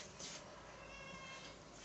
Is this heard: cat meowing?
yes